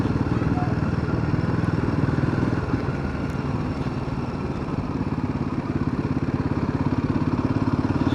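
Motorcycle engine running steadily on a ride from Zote Village to Champhai in Mizoram, a continuous close mid-pitched drone with a rapid pulsing beat and road rumble, no gaps throughout.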